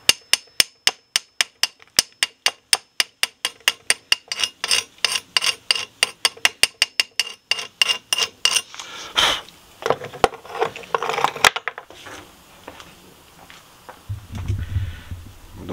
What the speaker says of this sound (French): normalement, il faudrait un petit marteau qui va bien.